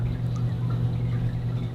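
Water poured and splashed onto a Ha No Kuromaku sharpening stone, a short steady wash of liquid heard up close with no talking.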